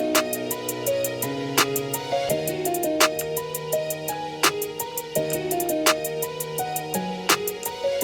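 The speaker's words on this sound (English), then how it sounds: "So we got the clap pattern right here." A programmed beat with sharp, regularly repeating hand claps over a synth bass line and chords, steady and upfront, with no voices.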